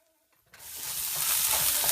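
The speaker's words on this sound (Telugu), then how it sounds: "వీటిని బాగా కలుపుకోవాలి." A spicy potato curry mixture with chili powder and salt goes into a hot pan, a soft clink followed by a loud, rising sizzle and scraping as it is stirred.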